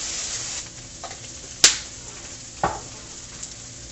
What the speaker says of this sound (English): you can hear it sizzling as soon as I put it down in the pan